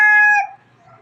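An 8-month-old stag gamecock crows once, loud and close, its harmonic call holding steady before breaking off into quiet.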